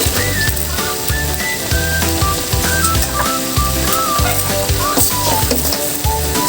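Fried tofu tossed into a pan of stir-frying vegetables, a loud continuous sizzle with rhythmic scraping and stirring clatter throughout, no voices.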